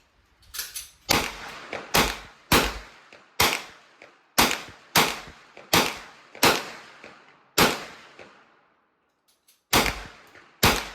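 Loud 9mm gunfire cracks out at a range, a Marlin Camp 9 carbine shooting downrange at a target 25 yards away: roughly a dozen sharp shots in a fairly steady rhythm, each trailing off in echo, then a short gap and two more.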